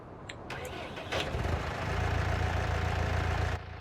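A tractor engine in Farming Simulator 19 cranks briefly with a couple of clicks, catches, and settles into a loud, steady, rumbling idle close by.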